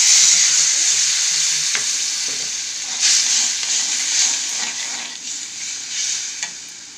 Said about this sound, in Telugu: ఇప్పుడు నేతలు కూడా మనం ఫ్రై చేసుకున్నాం కాబట్టి ఇందులో వాటర్ వేసేసుకుందాం